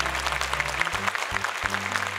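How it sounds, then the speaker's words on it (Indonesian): A short burst of clapping from a crowd, steady and fairly dense throughout, with a low hum beneath it. "Boleh mohon tepuk tangan sekali lagi untuk ketiga peserta kita."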